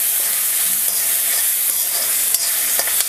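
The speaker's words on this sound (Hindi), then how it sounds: "हल्का सा भूनेंगे" Steady sizzling of curry leaves and spices frying in hot ghee for a sambar tempering, a continuous crackly hiss with a few sharper pops and occasional stirring scrapes, close and fairly loud.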